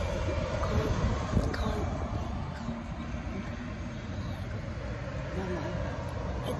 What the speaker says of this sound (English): It's a big Via bus.